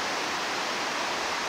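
Creek water rushes steadily and close by in a dense, even wash with no break, near a mountain mine site.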